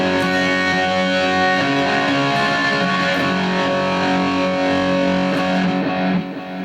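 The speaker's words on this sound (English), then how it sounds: "Let's play this tone without the reverb." A heavily distorted electric guitar tone from a BOSS eBAND JS-10 plays dry, without reverb, as dense sustained chords ring loud and continuous before cutting off near the end.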